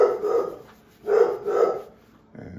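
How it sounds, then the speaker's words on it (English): A dog barks indoors at a mail carrier arriving, giving two loud, close bursts of barking about a second apart, with a softer sound starting at the end. "so my dog is barking."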